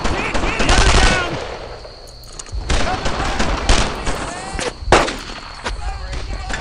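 Machine gun and rifle fire in the WWII shooter Brothers In Arms: Earned in Blood, loud rapid bursts with sharp cracks and a brief lull in between, while soldiers shout over the gunfire.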